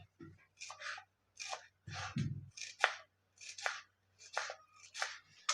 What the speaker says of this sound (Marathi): आता आपण कोथिंबीर कापून घेऊया